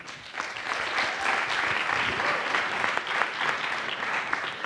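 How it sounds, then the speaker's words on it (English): An audience at a demo day event for hackathon teams gives a sustained round of applause, a dense, steady wash of many hands clapping at moderate distance with no voices over it. "Please give yourselves a round of applause."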